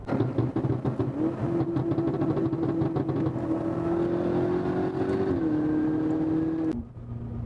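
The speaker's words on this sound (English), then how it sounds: "We're currently in a M5, one of the fastest cars that BMW's produced." A BMW M5 with a stage 2 tune and catless downpipes revs at about quarter throttle, its engine note climbing and holding a steady drone before cutting off sharply near the end, loud and close with no talking.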